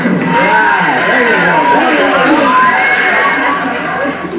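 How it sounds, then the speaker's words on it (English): Quiz show audience cheering and shouting together at close range, a dense crowd roar with some high excited voices layered over it. "give yourselves a round of applause"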